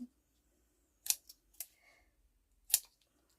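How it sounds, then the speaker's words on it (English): Scissors snip through new ribbon for a mixed media journal, three or four sharp crisp cuts spaced over a few seconds, close and alone against near silence. "Let's just cut a little"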